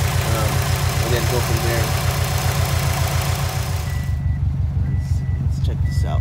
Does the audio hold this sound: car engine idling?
yes